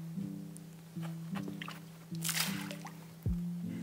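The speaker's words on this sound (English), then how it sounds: "so we're gonna pour" Water being poured into a small model fiberglass pool comes in short trickling, dripping bursts with a faint slosh, close and quiet, no talk.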